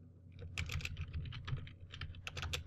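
Rapid, steady typing on a computer keyboard while entering commands, with clustered keystrokes close to the microphone and no talking.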